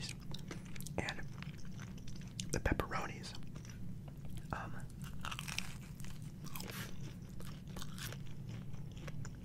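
Close-up crunching and chewing of New York pepperoni pizza, crisp bites and soft mastication sounds over a low steady hum, with whispery mouth noises throughout.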